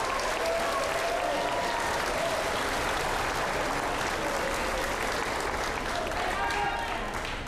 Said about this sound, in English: want to give a big round of applause for the sixth grade band